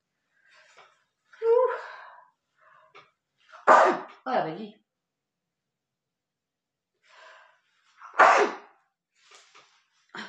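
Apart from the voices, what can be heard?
sneezing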